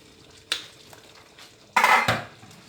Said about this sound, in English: Let me stir first